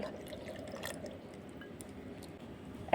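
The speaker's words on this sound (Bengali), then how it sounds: "এবার ওই বাটির হাফ বাটি দিয়ে দেব জল" Water poured into a mixer jar holding yogurt, with chickpea flour for a kadhi pakora batter, gives a soft, steady trickling and dripping that runs evenly for about three seconds.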